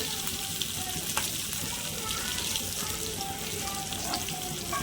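Fish fillets seasoned with pepper frying in a hot pan, a steady close crackling sizzle with small pops and soft scrapes as pieces are turned over, no voices.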